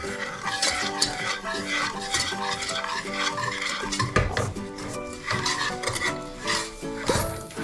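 Egg yolks, sugar and cornstarch are stirred together in a bowl for pastry cream, giving steady scraping, rubbing strokes that run nonstop at close range over a bed of background music.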